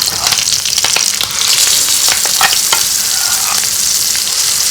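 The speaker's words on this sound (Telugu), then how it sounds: "ఇప్పుడు చట్నీ పోపు పెట్టేశాను." Mustard seeds, cumin and curry leaves sizzle and crackle loudly in hot oil for a chutney tempering, a dense continuous frying hiss with scattered sharp pops, close up and with no talking.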